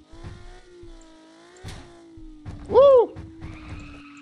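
A car in the video game Car For Sale Simulator 2023 drives with a steady engine hum, punctuated by short clunks and a brief sharp squealing burst near the end.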